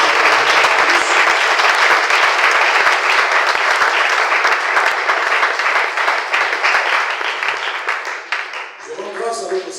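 A church congregation applauds loudly in sustained, dense clapping that fills the room, then thins out near the end as a voice begins to speak.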